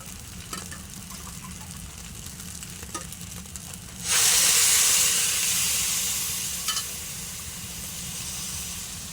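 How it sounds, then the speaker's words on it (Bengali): Water poured into rice and lentils frying for khichuri sets off a sudden loud sizzle and hiss midway, preceded by quieter frying and stirring, then slowly fading but continuing. "এখন আমি পানি দিয়ে দেব।"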